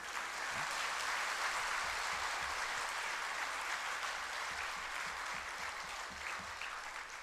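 An audience at a spiritual discourse by Shoonyo Ji Maharaj claps in steady, dense applause that holds evenly throughout, full and close with no voices over it.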